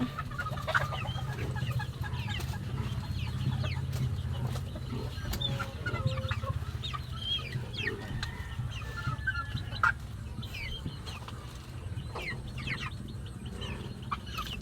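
Several chickens cluck and chatter steadily over a low hum, with scattered short calls overlapping throughout.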